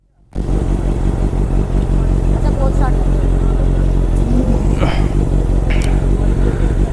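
A Honda CBR650 superbike with a loud aftermarket exhaust starts, then idles steadily and close while warming up, a deep continuous rumble with faint clatter over it.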